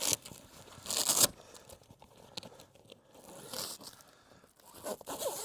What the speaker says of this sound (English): You have to undo this one zipper.